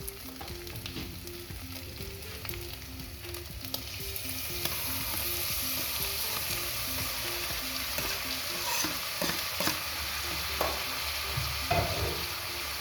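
Meat and tomatoes fry in a pan with a steady, close sizzle that grows denser and louder partway through, with occasional stirring scrapes and clicks and no voices.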